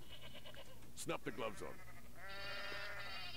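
Several goats bleat in the PAYDAY 2 Goat Simulator heist, a sharp cluster of calls followed by a longer, steady bleat, all close and under a voice as he talks.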